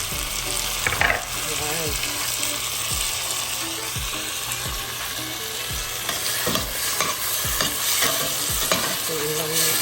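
Tomatoes are added to onions sautéing in a pan, steady close frying hiss with regular low knocks and scrapes of a spoon stirring through, while a person says a brief word.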